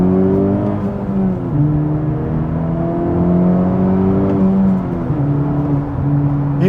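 An Acura Integra Type S with an MBRP exhaust is revved, its engine note rising and falling steadily in several smooth swells, loud and close, with no voices.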